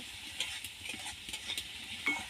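A spoon stirs chopped tomato, salt and turmeric in a pan, giving soft scraping and light sizzling with a few louder scrapes, close up and fairly quiet.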